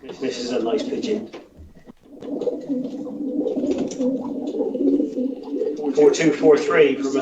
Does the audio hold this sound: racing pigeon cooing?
yes